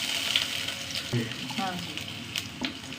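Mustard seeds and urad dal fry in a little coconut oil, a steady close sizzle with scattered crackles and pops, and faint background voices now and then.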